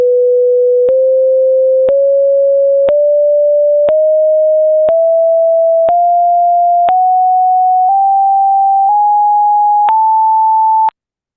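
A synthesized sine tone steps upward through twelve equal semitone steps from 440 Hz to 880 Hz, each pitch held about a second with a faint click at every change, steady and clean, ending abruptly, no voices.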